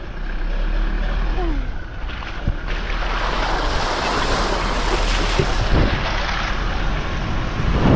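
A car drives through large water puddles on a rough back road in Zimbabwe, with a loud, continuous wash of splashing water and road rumble, swelling midway as the vehicle pushes through deeper water.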